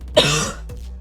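A single harsh, close cough from an adult man, a short throaty burst followed by a weaker second hack, loud against a low steady background hum.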